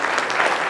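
Church congregation giving a loud round of applause, a thick, continuous burst of clapping from many people, close and unbroken for its brief length.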